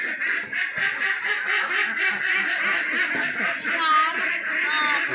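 Many ducks kept confined on a duck farm quack continuously in a dense, close chorus, loud and steady throughout.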